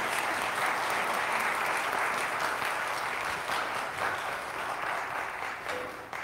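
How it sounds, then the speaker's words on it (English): A Presbyterian church congregation gives a round of applause for newly welcomed ruling elders, a full, even burst of many hands clapping that gradually thins toward the end. "If we could give just a quick round of applause."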